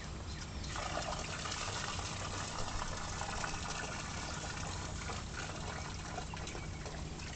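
Water pours steadily from a faucet, a continuous quiet gush with no break and faint background noise.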